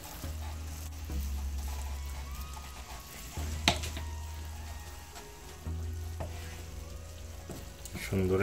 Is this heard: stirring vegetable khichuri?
yes